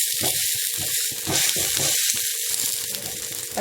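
Flipped ragi adai frying on a hot dosa pan with little oil, giving a loud continuous sizzle with bubbling crackle, close and steady, no talk over it.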